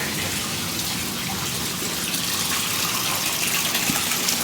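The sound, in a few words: water spraying from a marine hose over a hand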